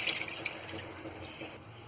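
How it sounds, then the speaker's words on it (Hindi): Rinse water from washed poha drains through a kitchen strainer, a soft, steady trickle and patter heard close and quiet. "इसका पानी हम यहाँ एक छन्नी पर निकाल लेंगे।"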